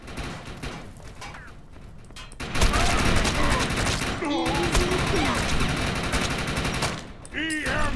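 Sustained automatic gunfire in the Defiance video game, dense rattling bursts that run for several seconds at close range, with someone talking over the shooting.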